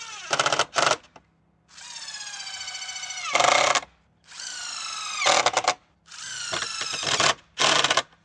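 A DEWALT FLEXVOLT cordless drill drives screws into a wooden lawn chair seat support in repeated bursts, each whine rising in pitch and ending with sharp clatter, with short pauses between.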